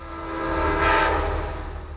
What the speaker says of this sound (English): New Haven P32 ACDM 229 leads train 1860 to a stop at the Merritt 7 station.